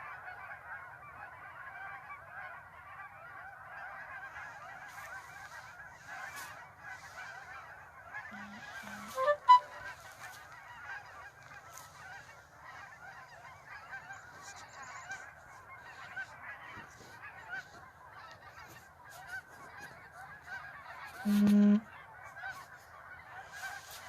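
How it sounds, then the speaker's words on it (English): Geese honk repeatedly as they fly overhead in a busy, overlapping chorus of calls, fairly distant and steady, with a couple of louder honks standing out. "the cacophony of the geese flying overhead"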